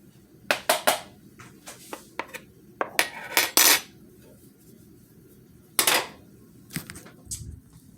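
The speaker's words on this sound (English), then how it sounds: "I'm going to take my hash browns and put it in this bowl." Hash browns go into a bowl for a cheesy potato dish, with a run of light clinks and clatters of utensil against dish coming in bursts, some louder than others.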